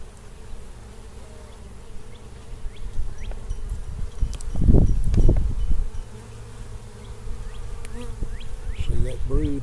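Honey bees buzzing from a hive built inside a water meter as brood comb is removed, a steady close drone that swells louder in the middle and again near the end, with faint voices underneath.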